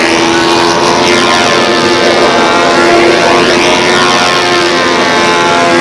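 A P-51 model plane flies by with a loud, continuous propeller-engine drone that swells and dips as it passes overhead. The sound is close and steady throughout.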